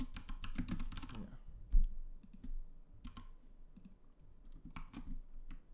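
Computer keyboard typing while writing JavaScript for a web page: a quick burst of rapid keystrokes, then sparse, scattered clicks over a quiet room.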